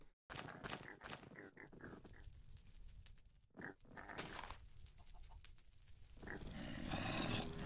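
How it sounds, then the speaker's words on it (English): Pigs oink and grunt just outside a player's base in Minecraft, a busy mix of short grunting calls over steady game ambience, with a louder crackling wash building near the end. "hear pigs right outside my base."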